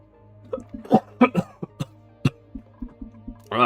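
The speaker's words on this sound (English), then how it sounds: "This cough is killing me." A person coughs in a harsh, repeated burst of short hacks, close and loud over a steady low background hum, with breathy throat sounds in between.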